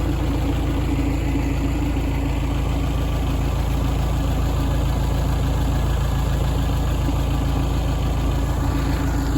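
A tractor engine idles close by, a low rhythmic rumble with constant throbbing vibration running unbroken throughout, with no talking.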